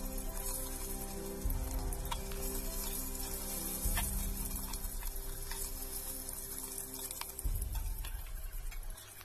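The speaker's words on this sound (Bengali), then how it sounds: "এবারে আরো যে চিকেনগুলো আছে সেগুলোকে আমি একইভাবে ভেজে নেব সব" Chicken pieces fry in hot oil for chicken yakhni pulao, giving a steady close sizzle and crackle that swells briefly as more pieces hit the pan, with no talking.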